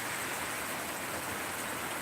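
Heavy rain falling during a dry spell of dust storms, a dense, steady roar of drops hitting surfaces, close and continuous throughout.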